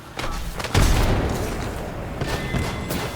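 An explosion goes off in the Apex Legends video game, a loud booming blast after a short thump, followed by a sustained rumbling roar that stays loud to the end.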